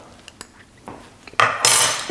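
Spoons clinking against a bowl while scooping fromage blanc for a smoothie, a few light taps and scrapes building to louder scraping near the end, close up and without talk.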